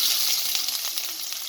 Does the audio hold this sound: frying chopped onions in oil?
yes